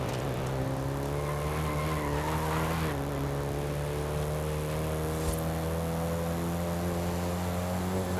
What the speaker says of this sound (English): So I keep snapping back so quickly when I try to drift it